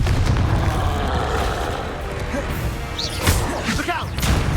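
Confringo blasting spell explosion in Hogwarts Legacy, heard as a loud, dense rumble with sharp crashing bursts near the end, close and forceful over constant game noise.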